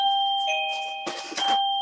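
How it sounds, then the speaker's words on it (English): A household doorbell chimes with clear sustained ding-dong tones, followed by a second brighter ring, loud and close in a quiet room. "that's the doorbell"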